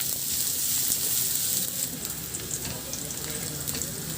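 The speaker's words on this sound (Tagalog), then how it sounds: "Magpainit na ako ng mantika sa kawali at igisa ko na rin yung bawang at luya." Garlic and ginger sautéing in hot oil in a pan, a steady, close, bright sizzle that holds evenly throughout with faint stirring ticks, no talking.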